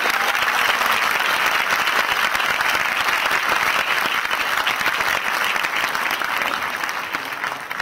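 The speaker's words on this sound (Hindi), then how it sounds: "भरपूर तालियों से इनकी हौसला अफजाई कीजिए" Sustained, dense audience applause rises in encouragement of honorees at a gathering, holding steady for several seconds before gradually tapering off.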